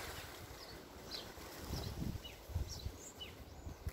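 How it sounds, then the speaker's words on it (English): Gusty wind buffets the microphone in low rumbling bursts, with faint bird calls chirping in the background. "Windy, windy."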